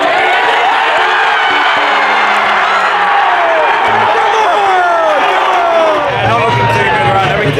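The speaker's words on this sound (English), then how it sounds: "it was the home crowd that silenced the Port fans" A home crowd at the SCG roars through an AFL preliminary final, a loud, unbroken wall of cheering and shouting from a packed stadium with no break in the noise.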